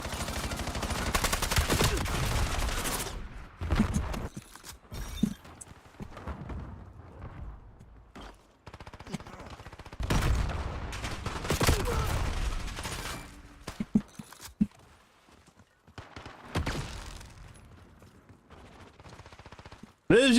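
Gunfire in the video game Call of Duty: Black Ops 7, with bursts of shots and blasts scattered through a busy multiplayer match, some loud and close, others fainter, alongside in-game noise and someone talking.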